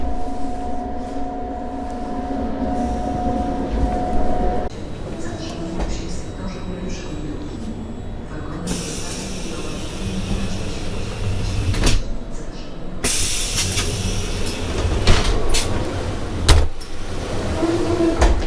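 A passenger train runs steadily, heard from inside a WARS dining car on an Intercity train, with a low rumble, a knock and shifting rattles, while a person talks now and then over the noise.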